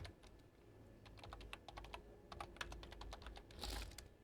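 HTML code typed on a computer keyboard: a steady run of many quiet, close keystrokes in rapid irregular rhythm over faint background hum, with a slightly louder clatter near the end.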